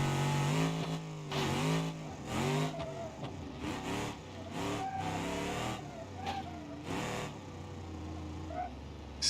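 An off-road Bruckle Moonhawk muscle car, lifted about six inches with stiff suspension, drives in BeamNG.Drive; its engine revs rise and fall in repeated swells, fairly faint and unaccompanied by talk.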